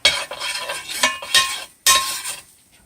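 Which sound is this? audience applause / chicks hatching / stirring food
stirring food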